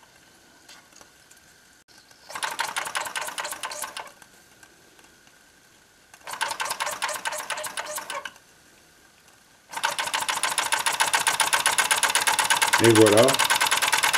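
A small model steam engine being restarted after repair chugs into motion, its rapid mechanical ticking coming in bursts that then settle into a steady, louder running rhythm, with a short spoken remark over it.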